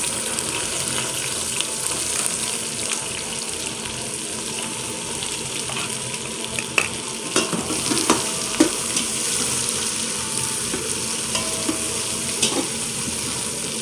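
Onions frying in hot oil for a traditional Dera Ismail Khan painda dish, a steady close sizzle with intermittent scraping and stirring clicks throughout, no voices.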